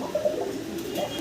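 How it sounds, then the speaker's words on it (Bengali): Red coca pigeons, a male and female in breeding mood, give a brief, close, soft cooing call lasting about a second. "কোকা কবুতর আমরা দেখতেছি ভাইয়ের কাছে রেড কালারের ভিতরে, একদম ব্রিডিং মুডে আছে।"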